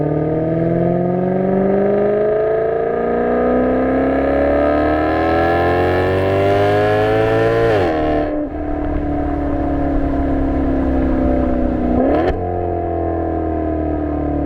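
A Maserati GranTurismo's exhaust note rises steadily through a long, loud rev climb, then drops sharply at a throttle lift before climbing again and cutting off a second time, all close and without talk.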